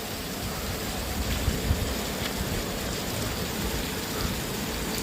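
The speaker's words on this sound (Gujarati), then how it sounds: "વરસાદ જોરદારનો આજે આવ્યો મિત્રો." Heavy rain falls in a steady, dense hiss with a soft low rumble beneath, moderately loud and continuous for the whole stretch, no one speaking.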